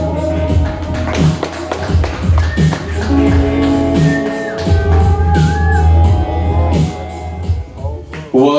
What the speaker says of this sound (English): make some noise, get loud, and welcome our first performer of the night, Alfredo Marquez Jr.